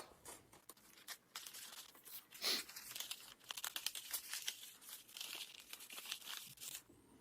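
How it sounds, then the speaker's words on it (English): Pieces of tape torn and pressed onto a folded paper shape for an engineering challenge: sharp ripping and crinkling bursts, repeated irregularly and close by, with sticky peeling sounds between them. "I'm gonna put a few pieces of tape on this."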